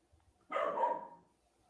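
A single dog gives one short, moderately loud bark indoors, brief and alone against near silence.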